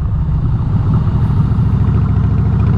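A Twin Cam Harley Davidson Softail motorcycle engine rumbles loud and close, its deep, throbbing exhaust pulsing steadily with no voices over it.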